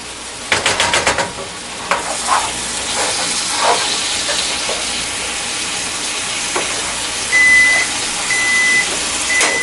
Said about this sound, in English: You're about to hear the microwave go off in about 10 seconds